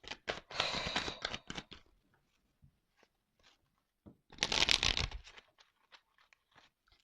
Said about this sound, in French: Je vais pas prendre beaucoup de cartes.